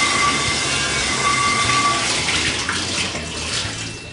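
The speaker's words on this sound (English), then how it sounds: "let's give her a quick rinse." Water rushes steadily into a winemaking container being rinsed, a continuous close splashing wash that holds at an even level with no talk.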